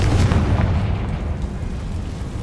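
A Confringo fire spell blast in Hogwarts Legacy, a heavy booming explosion with deep rumble that rolls on and slowly fades, loud and close, no talk.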